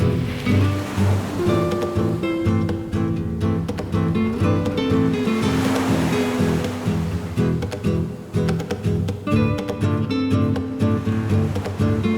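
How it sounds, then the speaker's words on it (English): Mediterranean Sea waves lap onto a beach in repeated washes, close and fairly loud, with a surging, rolling rhythm and no voices. "the Mediterranean Sea lapping on our own private beach"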